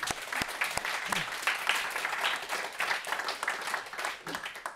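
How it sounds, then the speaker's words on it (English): A conference audience claps at a closing session, dense ragged applause with distinct nearby hand claps, with some voices mixed in underneath. "And hopefully they can hear us clapping."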